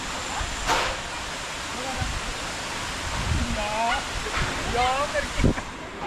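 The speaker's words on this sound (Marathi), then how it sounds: "इकडे वरती एक धबधबा आहे." A waterfall near Kundeshwar Temple in Badlapur, a constant broad rushing roar filling the background while birds chirp and a few knocks and footsteps sound nearby.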